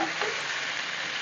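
Quail pieces frying in oil in a pan, a steady soft hiss and crackle of sizzling throughout, fairly quiet and alone.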